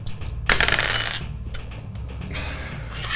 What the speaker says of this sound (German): Würfel auch mal auf Handgemenge.